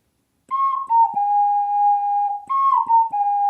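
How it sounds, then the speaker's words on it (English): A short melody of held, pure flute-like notes from an ocarina in Zelda: Breath of the Wild, played to call a horse. A few sustained tones with brief breaks between them, clear and alone. "you just pull out your ocarina"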